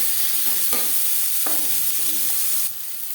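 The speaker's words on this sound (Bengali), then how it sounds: "পেঁয়াজ আমি হালকা করে ভেজে নেব" Sliced onions fry lightly in hot oil in a pan for aloo chicken kosha, a steady loud sizzle broken by a few scraping stirs of a spatula, with no one speaking.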